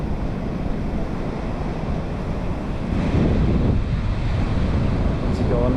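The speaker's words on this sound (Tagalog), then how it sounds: "laki pa ng mga alon dyan" Large waves surge and wash at high tide along a shoreline, a steady broadband roar that swells louder midway through, with wind buffeting the microphone throughout.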